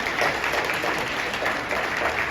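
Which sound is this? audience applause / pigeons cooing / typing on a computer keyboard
audience applause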